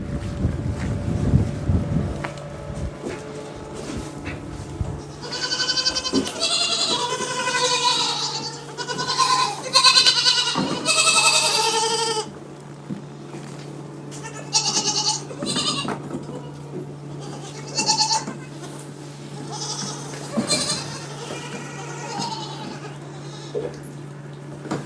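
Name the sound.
baby goats bleating on a farm in Lofoten, Norway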